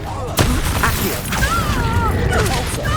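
An Accio summoning spell cast in the video game Hogwarts Legacy, heard as sharp magical bursts and cracks during a busy combat mix, with a few loud hits standing out over a continuous rumbling background.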